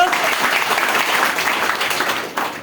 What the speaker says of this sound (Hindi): सभी के लिए एक बार जोरदार ताली